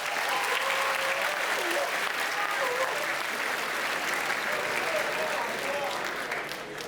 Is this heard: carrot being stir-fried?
no